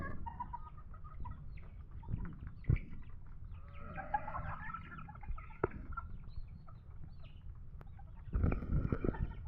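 Mother hens on a small farm cluck and murmur nearby in short scattered bursts, with occasional louder squawks and faint rustling around them.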